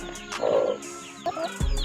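Mother hens brooding chicken eggs give a few short clucks and soft vocal calls, near and fairly clear, with a brief low thump at the end and no talk.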